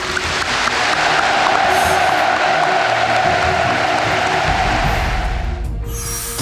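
A large crowd gives sustained, loud applause and cheering for Kim Jong Un, a dense, even roar that continues throughout and fades slightly at the end.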